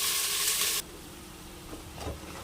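Pakoda fries in oil over a medium flame, a bright loud hiss that abruptly drops to a quieter steady sizzle, followed by a couple of soft stirring scrapes near the end, no voices.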